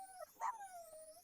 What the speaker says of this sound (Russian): Ну что ты скулишь, собачоночка?